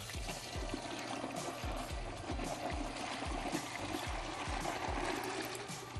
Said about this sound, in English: We're going to pour in our brine.